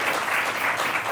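Audience applause at a talk with Olympian Lindsey Vonn, a dense, even wash of many hands clapping at once, loud and sustained through the whole moment.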